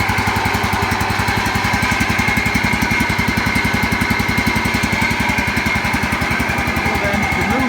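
A Ferris Hydrowalk SD 32 commercial walk-behind mower, laid up for about three months, idles steadily after a cold start, its engine a loud, close, even chugging pulse that holds without change throughout.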